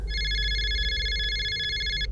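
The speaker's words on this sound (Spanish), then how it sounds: "Volvió a sonar el teléfono." A telephone rings with one sustained electronic bell tone lasting about two seconds, clear and moderately close over a low background hum, with no talk.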